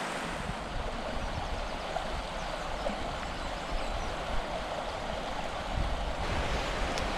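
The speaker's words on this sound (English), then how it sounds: "if you can hear me above the uh, the wind and the water noise" A steady roar of wind and flowing river water fills the scene on a limestone hillside walk, constant and broadband with gusts of mic buffeting and no voices.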